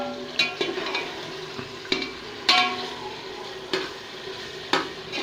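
Ginger garlic paste frying and being stirred in a pan for mushroom biryani, a steady close sizzle broken by sharp scraping stirs every second or so.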